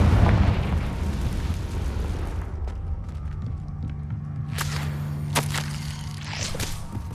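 A Confringo fire spell blasts in Hogwarts Legacy, opening with a loud, rumbling explosion that trails into a crackling burn. Sharp pops and bursts follow later.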